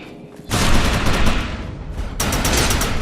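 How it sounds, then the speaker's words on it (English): Sustained, loud burst of rapid gunfire from the video game Defiance with the overcharge power active, starting abruptly after a quiet moment and continuing densely with a brief dip before resuming. "Shoot the projection while overcharge is activated."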